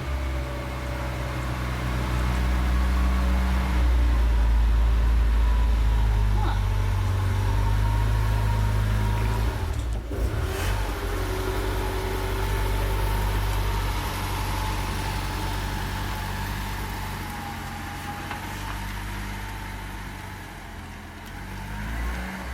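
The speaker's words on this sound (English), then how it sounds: "we're about to go for our first drive in how many months?" Car engine idling and running steadily on its first drive in six months after sitting since Christmas, a deep continuous rumble with a brief change in tone midway, no talk over it.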